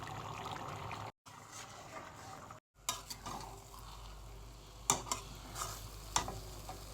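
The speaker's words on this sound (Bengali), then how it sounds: "এখন একটু ঘি অ্যাড করে দিচ্ছি" Ghee hitting a hot pan of khichuri, a steady sizzle and frying hiss with brief dropouts, then spoon stirring and sharp clinks against the pan.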